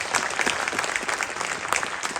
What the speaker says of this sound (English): big round of applause for all those that are involved in